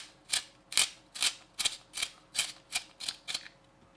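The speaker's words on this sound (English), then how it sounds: "I can sharpen in here." A 9mm Koh-I-Noor Magnum Black Star HB graphite pencil is ground in a wide-hole sharpener, giving about nine close, crisp rasping turns in a steady rhythm.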